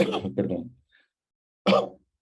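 Two coughs close to the microphone: a first one that breaks into a double burst, then a brief pause and one more short cough.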